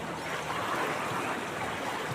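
Rushing water of a whirlpool churns as a dense, continuous roar, steady and close with no breaks or voices.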